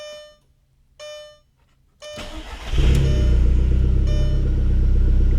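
An Audi TT's engine cranks over with a couple of chimes and then catches, settling into a loud, steady idle rumble up close with no one talking.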